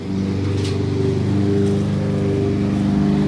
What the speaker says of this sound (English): Sorry about this lawnmower, guys.